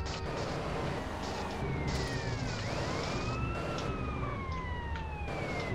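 Fire truck siren in the video game GTA San Andreas: faint wailing tones rise and fall over a low engine and traffic rumble, with no speech.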